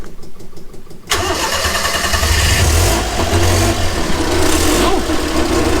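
A Honda Acty engine cranks and catches after a timing belt replacement, then settles into a loud, steady idle that runs alone and close up for several seconds.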